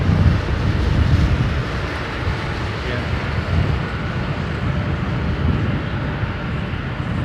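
Older airliner jet engines roar at London Heathrow Airport, a broad, loud, steady rumble with wind-like hiss that fades slightly, heard outdoors from a distance.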